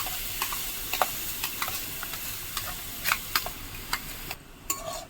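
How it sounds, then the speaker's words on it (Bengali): Grated coconut stirred in a hot wok over a fire, a continuous dense sizzle with regular scraping ticks of the spatula against the metal, close and fairly loud, no voices. "এবার এই নারকেলটা আমি কড়ার মধ্যে দিয়ে দিচ্ছি।"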